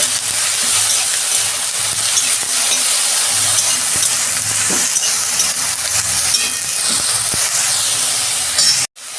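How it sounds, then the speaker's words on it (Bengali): Brinjal frying in a pan gives a loud, steady sizzle and crackle that continues throughout, close up and with no talking. "বেগুনগুলো আমি একটু ভাজা ভাজা করে নেব"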